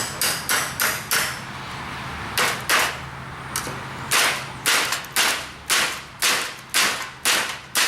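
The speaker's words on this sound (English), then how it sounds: "I hammered the blade with Gerber down into the 2x4" A Gerber knife blade is hammered down into a 2x4, sharp repeated metal-on-wood strikes in irregular bursts of two or three, loud and close with short pauses between groups.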